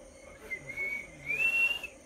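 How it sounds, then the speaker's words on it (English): A single person whistles a wavering, sliding tune with long held notes, fairly clear over a faint background hum. "that was just my whistling. I love whistling so much"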